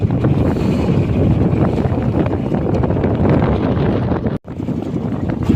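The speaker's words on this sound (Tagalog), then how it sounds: "malakas ang hangin" Loud, blustery wind buffets the microphone with a heavy roar, briefly dropping out before gusting again.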